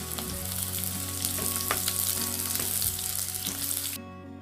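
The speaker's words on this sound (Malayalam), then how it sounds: "ശേഷം നമ്മൾ കണ്ടിച്ചു വെച്ചിരിക്കുന്ന പാവയ്ക്ക ഇതിലേക്ക് ചേർത്ത് കൊടുക്കാം" Cut bitter gourd fries in oil in a clay pot, a dense crackling sizzle with scattered pops and faint stirring taps, heard close, then cutting off abruptly near the end.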